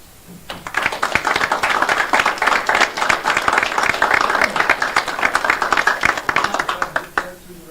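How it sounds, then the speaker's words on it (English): Meeting attendees in Page near Lake Powell applaud the employees. Loud, sustained clapping from many hands swells up after a brief quiet start, holds dense for several seconds, then tapers off near the end. "I'd like to give a round of applause for our employees."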